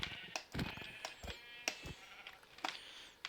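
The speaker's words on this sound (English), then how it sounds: "I'm going to go slaughter the sheep for a bed" Sheep in the Minecraft video game bleating in several short, bright cries spread across the moment, with soft game thuds between them and no talking.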